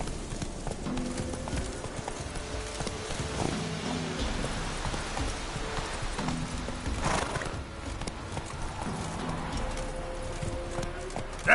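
Roach, the horse in The Witcher 3, trotting or galloping along: a steady run of clip-clopping hoofbeats mixed with patter that sounds like rain, with an occasional faint snort.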